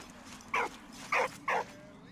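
Three short barks from a dog in the Valiant Hearts video game ring out in quick, uneven succession, clear and moderately close over a quiet background.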